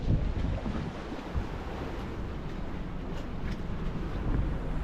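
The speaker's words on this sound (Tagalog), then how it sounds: "Malaking alon no." Steady roar of wind and big, rough sea waves washing around a boat in the West Philippine Sea, loud and continuous with no voices.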